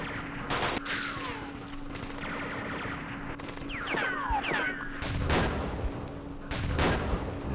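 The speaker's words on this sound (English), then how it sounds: "Oh, that's a hidden anti-tank gun." Several sharp gunfire reports from a hidden anti-tank gun in the Campaign Series East Front wargame, set at Kursk, crack out at irregular intervals over a steady background hum, with brief whistling swoops between the blasts.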